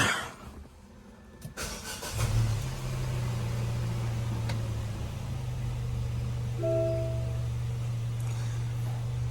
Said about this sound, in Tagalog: before we drain the oil, let's warm up the engine first. So what we're gonna do is just turn it on.